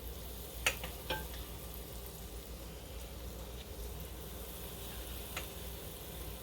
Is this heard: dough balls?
yes